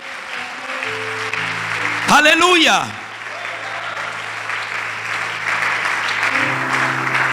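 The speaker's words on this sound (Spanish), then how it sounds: "Dale un aplauso a Dios por eso" A church congregation bursts into brief loud applause and cheering at a sermon, the clapping swelling for about a second under a shouted exclamation, with a sermon voice and sustained keyboard chords before and after.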